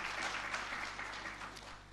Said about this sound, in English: can we give him another hearty clap?